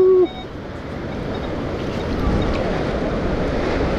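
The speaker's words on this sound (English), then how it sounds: "Here comes the water. Come on, water, help me out." An ocean wave washes in over a metal detecting scoop on a beach. A short sharp tone gives way to a rising, roaring surf wash that builds and holds loud and close to the end.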